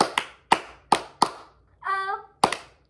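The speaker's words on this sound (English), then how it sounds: "Four claps this time." Four sharp group hand claps in steady rhythm for the Bingo song, a sung note between them, then another clap, loud and close in a family sing-along.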